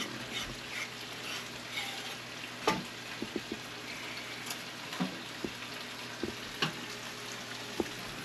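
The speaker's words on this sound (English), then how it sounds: "In the meantime, beef is browning." Stew beef browning in a pot for a Jamaican stew, a faint steady sizzle with a few sharp clicks and knocks of utensils scattered through, fairly quiet and without talk.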